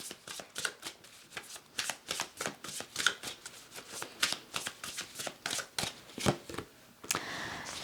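Tarot cards are riffled and shuffled in a rapid series of crisp, papery flicks and slaps that stay close and fairly loud throughout, ending in a short steady rustle as cards are drawn from the deck.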